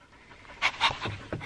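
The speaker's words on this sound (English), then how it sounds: "I have a very tired dog now, as you can hear." A tired dog panting in quick, breathy huffs at close range, several rhythmic exhalations rising and falling, with quiet background.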